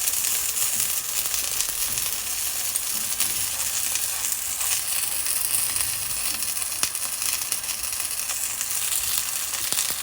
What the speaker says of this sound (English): Move the frying pan so it won't stick, because I don't put so much oil.